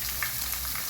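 Chopped onion, tomato and coriander sizzle in a hot pan with garlic for pav bhaji, a short, steady hiss with faint crackles, close and quiet, no talking.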